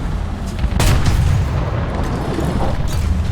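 A 75 mm tank cannon firing in War Thunder, a heavy, sustained booming blast with rumbling low-end, loud and close, no speech.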